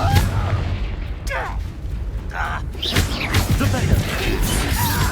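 Confringo spell blasts fired in Hogwarts Legacy, a string of booming bursts and crashes mixed with other spell effects, under a steady game score and a voice.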